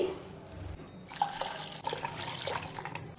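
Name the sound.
pouring water into pot of jowar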